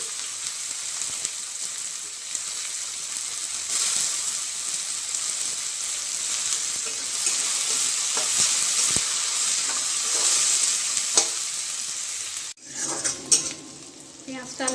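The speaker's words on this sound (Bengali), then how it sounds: "একটু ভেজে নিয়ে এবার দেবো পেঁয়াজ" Onions frying in a pan give a steady, fairly loud broadband sizzle with occasional utensil stirs and clinks, broken near the end by a brief gap and a few louder knocks.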